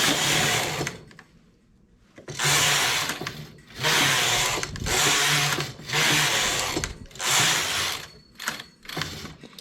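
Knitting machine carriage pushed back and forth across the needle bed, knitting rows of a bias-bound front edging in repeated loud whirring, clattering passes, each a second or so long, separated by brief pauses.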